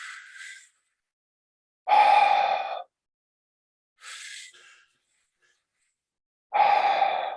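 Slow breathing through the mouth comes in long cycles: two soft inhales, each followed by a louder, breathy exhale lasting about a second, with short pauses between and no talking.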